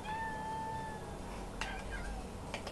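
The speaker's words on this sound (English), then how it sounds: "Our cats backtalk us." A pet cat named Gatsu gives a drawn-out, wavering meow close by, followed by a couple of shorter vocal chirps, over a low background hum.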